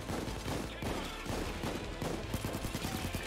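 Rapid automatic gunfire in the virtual reality game Payday 2 VR, dense overlapping bursts with heavy low-end booms, sustained and chaotic throughout.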